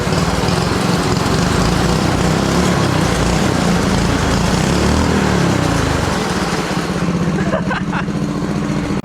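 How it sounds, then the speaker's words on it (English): A mini drift quad's small engine revs hard and steadily during a burnout inside a garage, a loud, continuous buzzing drone that persists throughout, with a brief rattling scrape near the end. "Maybe a little burnout in the garage?"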